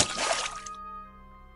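Something drops into a water well, giving a single short, loud splash that cuts off and leaves a faint ringing tail, with no voices.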